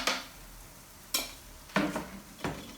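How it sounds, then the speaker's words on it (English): Sweet potatoes and onions are stirred in a pan, a spoon scraping and clacking in four distinct strokes with brief pauses, close and clear over a faint sizzle. "Let's stir it."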